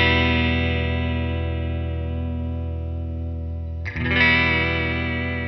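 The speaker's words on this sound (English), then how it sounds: "Roll this control over to full vibrato, we'll lose the dry signal and only have the modulated signal." An electric guitar runs through a Walrus Audio Julia analog chorus/vibrato pedal set to full vibrato, with only the wet signal: a sustained chord with wavering pitch, then a fresh strum near the end, clean and close with no speech.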